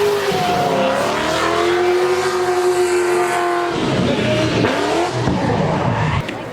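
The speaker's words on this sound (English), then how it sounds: "Cars are coming to see everybody doing burnouts and drifting." At a Ford car show, a car does burnouts and drifts with a loud revving engine and a sustained high tire squeal, then a rough roaring pass, heard from nearby over a faint crowd.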